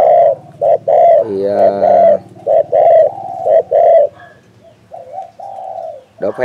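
Repeated cooing of a spotted dove used as a decoy bird for trapping, a series of loud, close, rhythmic coo phrases with brief pauses between them and no talking.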